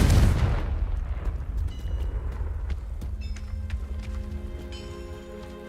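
Confringo explosive spell cast in the Hogwarts Legacy video game: a loud deep boom bursts at the start, then rumbles and crackles away, with faint tonal game ambience rising afterward.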